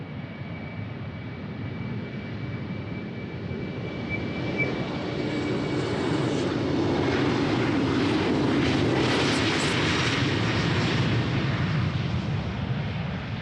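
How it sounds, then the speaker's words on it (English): A ten-year-old British Airways Embraer 190 jet takes off at Amsterdam Schiphol, a sustained heavy roar heard from a distance that swells and grows brighter midway before easing slightly. "It's an Embraer 190. It's 10 years old, and it's taking off already."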